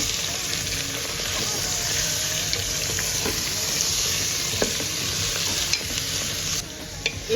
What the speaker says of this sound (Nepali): अब मटन हालेर एकछिन चलाउने यसलाई